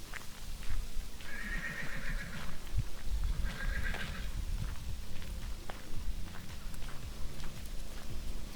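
A horse out in open grassland country whinnies twice in quick succession, fairly close, with hoof clops and rustling around it.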